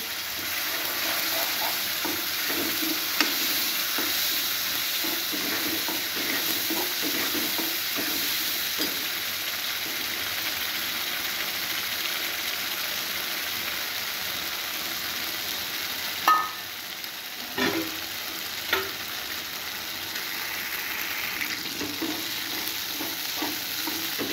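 Potatoes fry with tomato puree for pav bhaji, giving a constant soft sizzle while a spoon stirs, with a few sharper scraping knocks toward the end.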